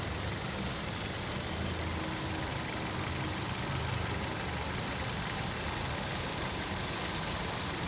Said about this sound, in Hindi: आपको एक इंजेक्टर की आवाज़ सुनाई देगी, किट किट किट किट की